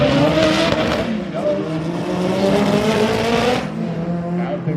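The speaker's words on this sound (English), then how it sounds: "Right lane spinning. RPMs come up, lights dropping down the street." At Irwindale Speedway, a drag race car launches with its tires spinning, a loud, close engine roar and tire squeal climbing in pitch before cutting off, under announcer commentary.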